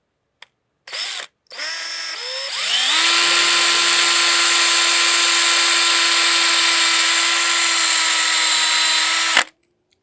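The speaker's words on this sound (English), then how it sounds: "Continue drilling out this bad boy." A power drill fitted with a bigger 3/32 bit drills out a broken bolt, kept at low speed: a few short starts, then one sustained, steady high whine for about seven seconds before it stops abruptly.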